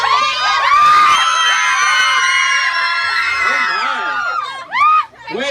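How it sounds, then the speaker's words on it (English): A crowd of fans at a Z100 Portland radio appearance with LMFAO cheers, screams and whoops loudly, high excited voices swelling together then trailing off into scattered shouts near the end. "So I just walked up here and y'all started cheering."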